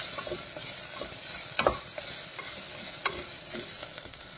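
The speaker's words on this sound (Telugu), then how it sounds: "కొంచెం బాగా వేగితేనే బాగుంటుందండి అల్లం వెల్లుల్లి పేస్ట్" Ginger garlic paste frying in a pan gives a continuous close sizzle, broken by the scraping clinks of a spoon stirring, with a sharper crackle partway through.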